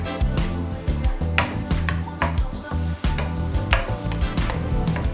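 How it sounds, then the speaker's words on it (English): Onions, bell peppers and jalapenos sautéing in a pan for creamy shrimp enchiladas, a close steady sizzle broken by repeated knocks and scrapes of a utensil stirring the vegetables. "we're just gonna get these babies sauteed in here for a few minutes until those veggies start to soften"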